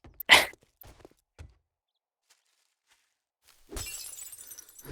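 Glass windows shattering in the game 7 Days to Die, a sharp crash followed by a few small knocks, then after a quiet gap a longer rattling crunch of breaking panes, close and fairly loud with no talk.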